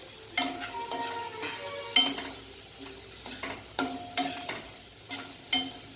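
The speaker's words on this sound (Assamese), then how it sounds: "প্ৰায় মোৰ মছলাখিনি ভজা হৈ গ'ল" Spices and potato sizzle steadily in oil in a pan while a spoon scrapes and stirs in repeated, sharp strokes, close up with no voices.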